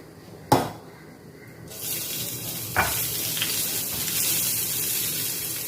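Steady hiss of hot oil frying mustard seeds with turmeric, with a couple of sharp pops and crackles near the start, then a broad sizzle that continues to the end.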